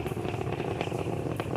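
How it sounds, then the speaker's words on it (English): Nine Merlin 1D engines on a rocket's first stage roar through ascent just past max Q as it goes supersonic, a dense, steady crackling rumble with a slight rasp, unbroken and far off. "Confirmation we're back up on power on the 9 Merlin 1D engines."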